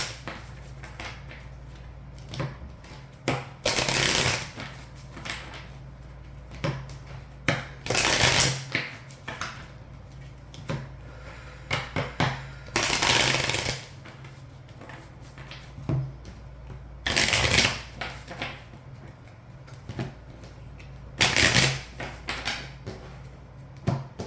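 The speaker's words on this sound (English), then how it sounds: "Let me just shuffle quick." Tarot cards being shuffled in bursts of riffling and flicking that come every few seconds, close and fairly soft, with quiet pauses between them and no talking.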